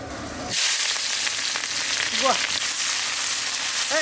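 Onion and panch phoron hit hot oil with a sudden loud sizzle that stays steady and close, cooking a country red rooster curry in a rural Santali home kitchen; faint voices are heard over the frying.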